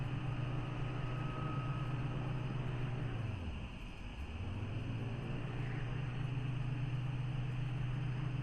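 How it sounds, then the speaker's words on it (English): A steady engine drone from an airplane in the Kentucky Route Zero video game, a continuous low hum that dips and swells once as it passes. "That's an airplane."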